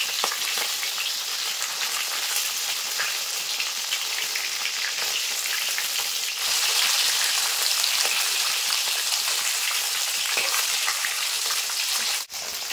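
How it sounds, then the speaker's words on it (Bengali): Rohu fish pieces frying in a wok of oil, a steady dense sizzle and crackle running close and loud for the whole stretch with no talk. "তো দেখো আমি মাছগুলো লাল লাল করে ভেজে নিয়েছি"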